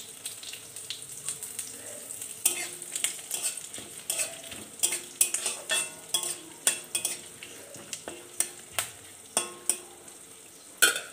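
Whole cumin seeds, a dried red chili and two bay leaves hit hot oil for a Bengali pumpkin-greens chorchori, crackling in a steady sizzle with sharp pops and stirring clicks growing more frequent, close and moderately loud, with no talking.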